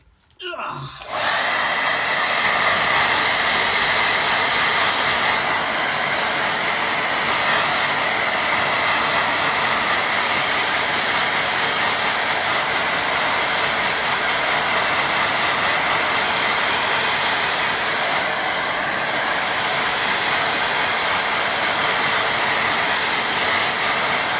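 Hair dryer blowing on a watercolour painting of a steep hill, switching on abruptly and then running as a loud, steady close roar for over twenty seconds.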